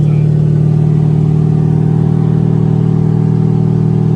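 A loud car engine with a 3-inch dump tube and no muffler drones at a steady high rev, close and unbroken with a strong low hum, no voices over it.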